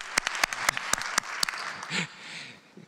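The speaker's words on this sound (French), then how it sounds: "On peut l'applaudir." A burst of applause at an award ceremony, with sharp individual claps, fairly close, tapering off after a couple of seconds into quieter room noise.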